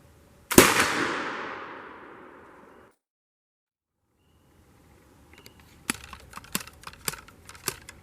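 A flintlock rifle fires once at a square steel target in the woods, a loud sharp blast with a long fading tail, followed after a pause by a series of close clicks and knocks.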